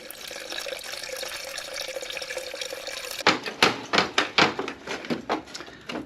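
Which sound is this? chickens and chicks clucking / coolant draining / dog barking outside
coolant draining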